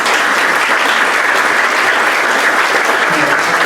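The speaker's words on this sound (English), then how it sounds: "That itself deserves a round of applause." An audience at a Rotary club meeting breaks into a round of applause, a loud, dense, steady wash of clapping that fills the whole stretch without a pause.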